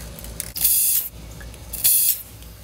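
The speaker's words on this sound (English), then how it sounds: "right over your head, I'm going to spray that one too" An aerosol lubricant sprays onto squeaky heim joints under a vehicle in two short hissing bursts, each under a second, close and fairly loud.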